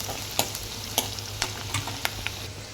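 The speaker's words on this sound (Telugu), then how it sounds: "ఇప్పుడు మనం దీన్ని కలిపేసుకుందాం." Utensil stirring a frying biryani masala in a pan, with sharp scraping taps about every half second over a steady low sizzle, close and fairly quiet.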